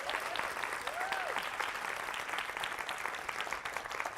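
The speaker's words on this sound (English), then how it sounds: "I do think we need to give Laura a great round of applause." A room full of people at a Women in Engineering 25th anniversary event applaud Laura, steady continuous clapping at close range with a brief voice rising briefly through it.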